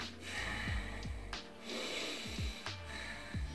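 Loud, deliberate breaths are demonstrated close to the microphone, several audible inhales and exhales with a snorting, gasping quality, each separated by brief pauses.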